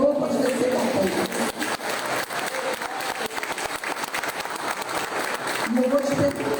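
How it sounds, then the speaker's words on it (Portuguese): A Baptist church congregation claps during a Wednesday service, a moderate, steady patter of hands filling the room, with a voice speaking over the applause at the start and again near the end. "Você pode aplaudir o nome do Senhor"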